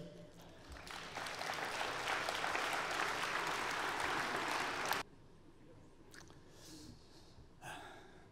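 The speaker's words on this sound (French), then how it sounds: "Vous pouvez l'applaudir" An audience applauds at a town New Year's greetings ceremony in Vendargues, with dense steady clapping for about five seconds that then stops abruptly, leaving faint room noise and scattered small sounds.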